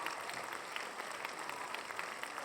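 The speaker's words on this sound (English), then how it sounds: "So let me give myself a round of applause for that." A steady round of applause, dense hand clapping from a small group heard at moderate distance, continuing evenly without voices.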